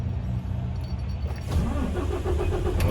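A UD 390 single-axle tractor truck from 2021 cranks over and its diesel engine catches, the starter whir giving way partway through to a steady, rumbling idle close by.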